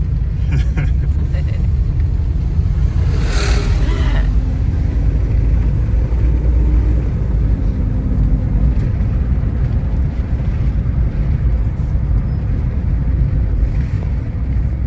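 A cheap Nissan Skyline driving, its low engine and road rumble steady and close inside the cabin throughout, with a few faint clicks and a brief whoosh early on.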